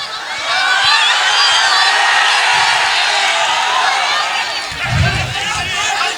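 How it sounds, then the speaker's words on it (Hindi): A large crowd claps and cheers for a speaker's arrival at a big outdoor rally of thousands in Dhaka, a steady dense roar of applause and whoops holding across the whole stretch with no break. "तालियों से स्वागत कीजिए इनका, तालियों से स्वागत कीजिए"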